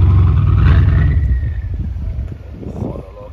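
A Ferrari SP3 Daytona engine roars loudly and close at the start on a Monaco street, then fades as the car moves away, leaving quieter street ambience.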